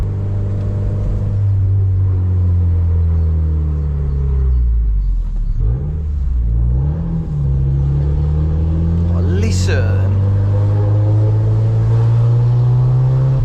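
A Mazda MX-5 engine drones steadily for a long stretch in Wales, its low rumble swelling and shifting as the sound reflects off nearby surfaces.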